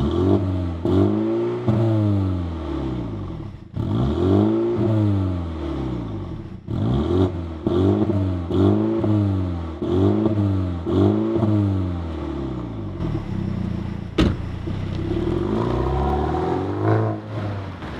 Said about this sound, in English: when you switch to sport, that valve opens, making the exhaust louder.